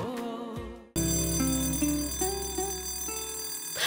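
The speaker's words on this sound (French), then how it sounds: "Monsieur Khan, l'alarme sonne." An alarm rings loudly in a television drama scene, a sustained electronic tone with stepped pitch changes that continues without a break after an abrupt start, following a brief stretch of music.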